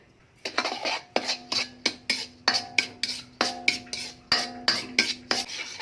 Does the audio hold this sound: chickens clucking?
no